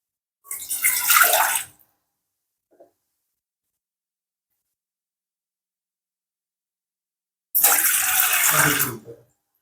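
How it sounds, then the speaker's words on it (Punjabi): Two short pours of water into a pan, each a rushing splash lasting about a second, separated by several seconds of silence. "ਹੁਣ ਆਪਾਂ ਇਹਦੇ ਵਿੱਚ 2 ਗਲਾਸ ਦੇ ਬਰਾਬਰ ਪਾਣੀ ਪਾਵਾਂਗੇ"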